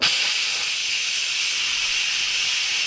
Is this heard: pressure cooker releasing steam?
yes